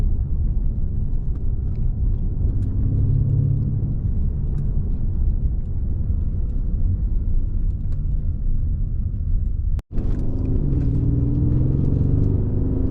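Mercedes-Benz S550 Coupe (C217, 2016) with a Renntech tune accelerating, a steady low engine and road rumble heard from inside the cabin, continuous and fairly loud, with a brief dropout near the end.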